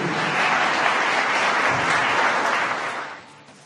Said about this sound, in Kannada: ಜೋರಾದ ಚಪ್ಪಾಳೆಯೊಂದಿಗೆ ಅಭಿನಂದನೆಗಳು